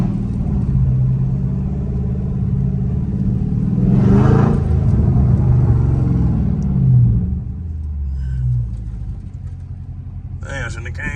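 Dodge Scat Pack engine rumbling steadily while driving through a neighborhood with speed bumps, a deep continuous low drone that swells with revving around the middle, with someone talking over it.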